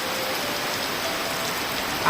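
Afternoon rain falls steadily, producing a dense, even hiss of drops that continues throughout without a break.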